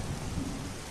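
Steady rain falling with rolling thunder underneath, a dense continuous wash of drops over a low rumble, fairly even in loudness throughout.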